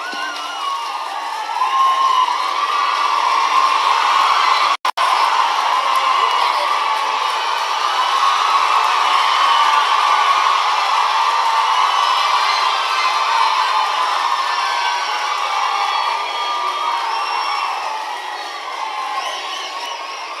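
A large audience at a memorial ceremony for the Maruthu brothers in Tamil Nadu cheers and applauds as the Governor of Tamil Nadu takes the stage, a dense, steady roar of crowd noise with one brief dropout.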